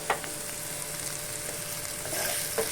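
Beetroot paste with poppy seeds fries in a pan, a dense, close sizzle with sharp pops and spatters scattered through it, growing a little louder toward the end.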